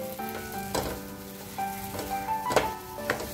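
Mixed dry fruits being stirred into mango suji halwa in a pan, with a steady sizzle and scraping stir strokes recurring every half second or so, close up and moderately loud, with no talking.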